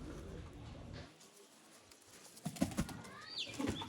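Pigeons in a breeder's loft of Sialkoti birds, with soft cooing and faint bird calls under a steady rustling background, plus a few brief louder flutters and clicks toward the end.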